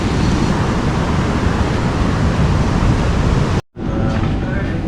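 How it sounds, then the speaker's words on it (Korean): Strong ocean waves at a beach in a Philippine surf village make a steady, loud roar of surf and wind. It cuts out briefly near the end, then the wash returns. "오늘은 파도가 더 센데?"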